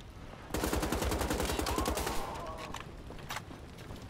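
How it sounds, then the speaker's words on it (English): Rapid automatic gunfire from the video game Wolfenstein: The Old Blood, a dense loud burst of shots for about two seconds, then sparser bursts trailing off. "Who's shooting me from where?"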